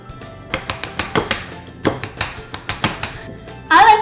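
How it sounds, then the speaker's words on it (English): Apples being chopped with a biscuit cutter or knife on a cutting board, a steady run of sharp, close knocks in quick rhythmic clusters, ending in a brief louder rustle. "the first thing we're going to do is chop them up with our biscuit cutter or a knife"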